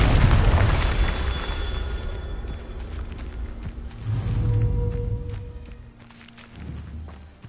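A fire spell explodes in the Hogwarts Legacy video game, a loud booming blast that fades into rumbling, followed by footsteps and a second, softer whooshing burst.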